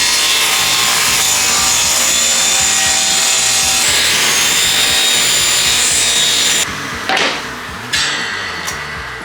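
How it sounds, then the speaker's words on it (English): Scrap mahogany and flame maple pieces being cut with a saw, a loud rhythmic rasping of strokes that runs steadily before breaking into a few shorter cuts and pauses near the end. "Got to cut the pieces first and get them glued together"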